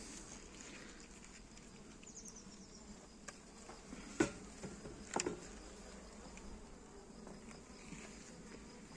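Low, steady buzzing of many honeybees swarming nearby, including queenless bees, with a few faint taps and clicks rising above the drone.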